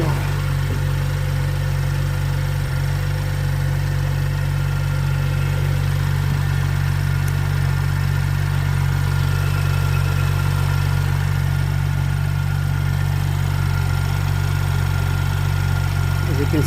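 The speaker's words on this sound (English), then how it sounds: "You can see the engine sounds okay." A BMW 135i F20, a car with an apparently rough idle, runs at idle with its bonnet open, giving a steady low mechanical drone that holds even and unbroken from start to finish.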